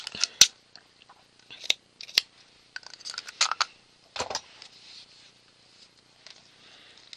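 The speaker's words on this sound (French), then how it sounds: "On va couper en deux." Scissors cut something in two in a quiet room, a series of crisp, close snips and clicks in irregular bursts with short pauses between them.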